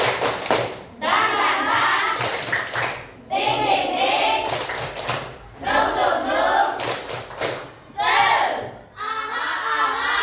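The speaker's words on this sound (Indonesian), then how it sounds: "Tepuk semangat." A classroom group plays the Indonesian rhythmic clapping game tepuk semangat, with loud bursts of patterned clapping alternating with chanted group shouts over several cycles.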